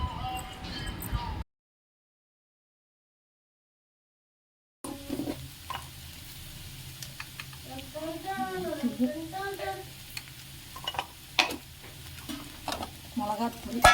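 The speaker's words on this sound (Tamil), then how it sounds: "வெங்காயம், கருவேப்பிலை எல்லாம் போட்டு நல்லா வதக்கி" Onions and curry leaves sauté in a pan with a steady sizzle and occasional utensil scrapes and clinks, cut off by a silent gap near the start, then resuming at close range.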